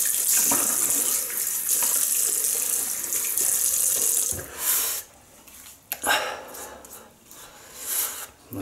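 Water from a tap runs loudly into a sink for a rinse after a left-handed wet shave, with a few breaks and splashes as hands move under the stream.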